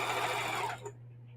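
A sewing machine runs steadily while stitching rows of a flowered quilt together, whirring close and continuous before stopping abruptly partway through, leaving a faint low hum.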